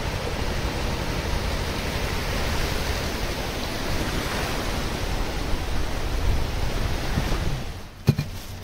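Waves and wind on an empty beach at Mandarmani, a broad steady roar of surf that swells slightly and is briefly broken near the end by a sharp knock, with no voices.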